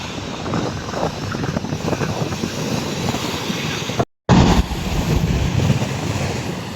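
Strong typhoon wind roars across an open sea and harbor with crashing waves beneath, a steady loud rush buffeting the microphone, broken by a brief cut of silence before the roar resumes.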